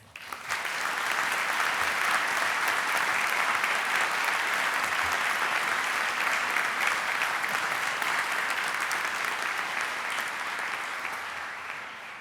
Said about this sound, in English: Can we have a round of applause for the teachers, mentors, friends, and families of the new graduates?